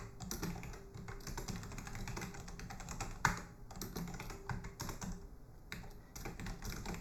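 Rapid clicking of keys on a computer keyboard as code is typed, a close, quiet stream of taps with short pauses and one sharper keystroke midway.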